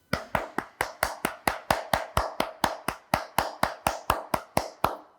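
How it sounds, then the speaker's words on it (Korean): Congregation at a Korean church Sunday worship service clapping together in a steady, even rhythm of about four claps per second, sharp and close, continuing for several seconds with no talk. "우리 하나님께 감사와 영광의 박수를 올려드리겠습니다."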